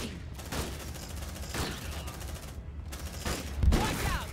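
Squad gunfire in the sci-fi shooter Aliens: Dark Descent comes as repeated heavy bursts and volleys, with a steady low rumble underneath for about four seconds.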